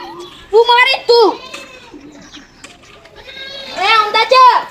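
A goat bleats twice in short wavering calls, then again more loudly near the end, with people talking around it in a rural Gujarati household setting around watering time.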